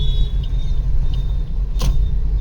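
A car rolls slowly along on a learner's driving lesson, its low engine rumble and road noise steady and close from inside the cabin, with a faint click partway through.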